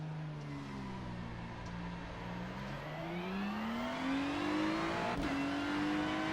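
A race car in the iRacing sim game drives past, its engine note rising steadily in pitch as it accelerates by, loud and continuous with no talk over it.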